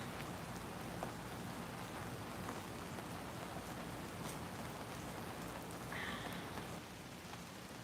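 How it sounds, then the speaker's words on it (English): Rain falls steadily outdoors, a faint, dense hiss of drops on surfaces with occasional louder splashes and no voices. "Right here in the rain."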